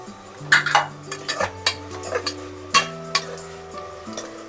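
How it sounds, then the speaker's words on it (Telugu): Onions frying in a pot as goat head curry is prepared, with repeated sharp clinks and scrapes of a spoon stirring against the metal over a soft sizzle, close and alone. "ఉల్లిగడ్డలు ఫ్రై అయినా లేదో చూసుకుందామండి"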